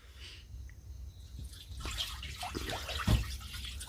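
A spoon is rinsed under running water in a home kitchen, giving soft splashing and trickling with a few clinks and drips, fairly close and moderately quiet.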